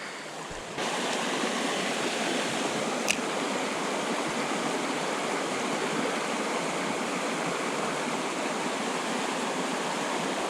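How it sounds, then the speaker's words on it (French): Mountain river fed by a lake rushes steadily over stones, a loud, dense broadband roar that holds constant throughout, with a single brief click near the middle. "C'est magnifique, magnifique cette partie de rivière, vraiment"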